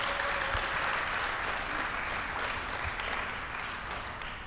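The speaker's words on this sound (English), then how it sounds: "Let's give everybody a round of applause." A dense wash of audience applause fills the room at a business accelerator graduation ceremony, steady and full throughout before easing off slightly toward the end.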